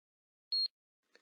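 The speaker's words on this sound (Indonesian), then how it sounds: "Itu suara mesin kasir membaca kode batang." Cash register scanner beeping as it reads a barcode: one short, clean high-pitched electronic beep, followed a moment later by a faint brief trailing sound.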